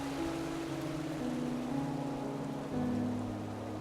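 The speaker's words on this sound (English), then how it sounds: "I wish it wasn't raining." Rain falls steadily in the fantasy game Enderal, a Skyrim mod, a dense even hiss with a low ambient hum beneath it, unbroken throughout.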